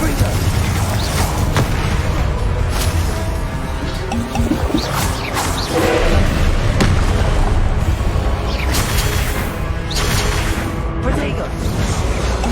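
A Confringo blasting spell explodes in Hogwarts Legacy, with booming bursts recurring through a busy battle mix and a voice shouting spell names over the blasts.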